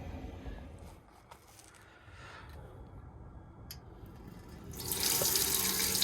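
Water runs from a tap into a sink aboard a boat on an icy morning, a steady rushing stream that swells louder near the end, with no talk.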